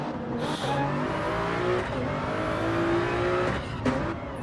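A race car in a Toyota multiclass sim-racing league at Watkins Glen rounds a corner, its engine droning steadily and loudly with shifting pitch as it accelerates, with no talk over it.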